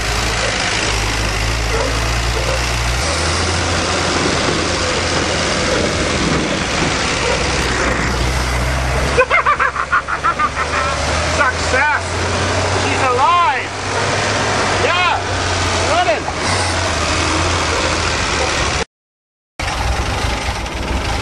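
A 1977 Dodge van's engine runs steadily while driving on a first test drive, with a low droning rumble, a shift in engine note partway through, and voices talking over it.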